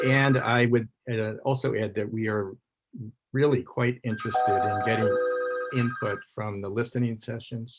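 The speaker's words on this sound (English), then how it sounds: "I apologize for the ringing phone." A telephone rings with a steady electronic trill during a climate council meeting held online, the ringing sitting under a man's continuous speech.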